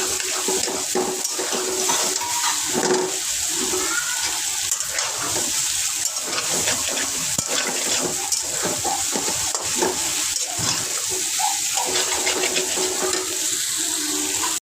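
Raw village banana sautéed in a pan with fried fish, a continuous close sizzle broken by irregular stirring scrapes and clicks, steady and fairly loud, with no talking.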